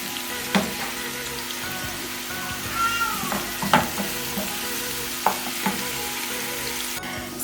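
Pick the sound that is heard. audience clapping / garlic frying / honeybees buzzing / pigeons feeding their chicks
garlic frying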